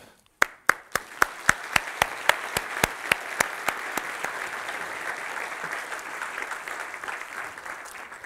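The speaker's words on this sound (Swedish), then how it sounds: "Så en varm applåd" A slow, single clap rings out several times at a lecture on climate change, then a wider round of audience applause builds and carries on, steady and moderately loud.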